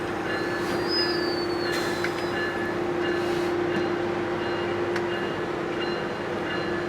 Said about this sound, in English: Metrolink 115 now headed to East Ventura.